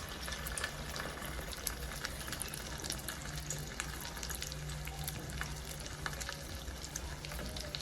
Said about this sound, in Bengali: এখন সরাসরি তেলে দিয়ে দিব।